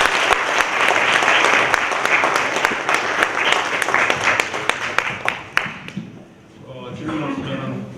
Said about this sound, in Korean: 박수 좀 쳐주시죠